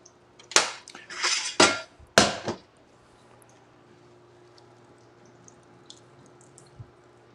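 Cooked pasta tipped into a colander in a home kitchen, giving a few loud splashing, clattering bursts over about two seconds, then near silence with faint scattered drips.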